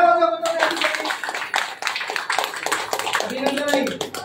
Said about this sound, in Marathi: टाळ्या वाजवा गोतरणे आजीसाठी